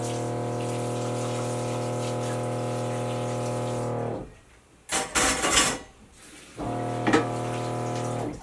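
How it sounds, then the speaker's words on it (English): Cabbage leaves rinsed under a running kitchen tap, a steady broad water hiss that stops briefly midway with a few splashy bursts, then resumes and runs on alone. "So cabbage done. I'm going to rinse these off."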